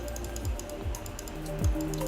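Keys tapped on a computer keyboard in short, uneven bursts of clicks, close and moderately quiet, with no voice over them.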